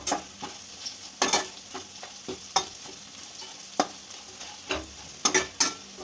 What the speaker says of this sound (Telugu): కరేపాకు కూడా కొంచెం వేపుకుందాము